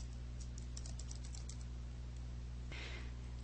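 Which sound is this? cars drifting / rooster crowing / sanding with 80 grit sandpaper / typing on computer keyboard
typing on computer keyboard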